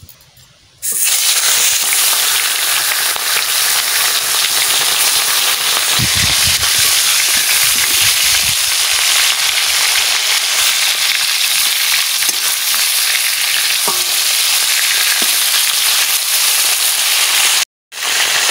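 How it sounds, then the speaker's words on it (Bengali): A fish head fries in hot oil in a pan, giving a loud, continuous crackling sizzle with occasional stirring scrapes that runs almost unbroken before a brief cut near the end. "মাছের মুড়াটা ভাজা করে দিচ্ছি"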